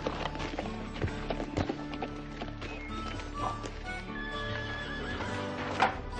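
A horse in a Western frontier setting whinnies and neighs while hooves clip-clop nearby, with scattered hoof taps and calls over a soft background score.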